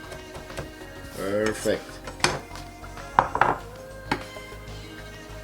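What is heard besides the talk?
chopping salad ingredients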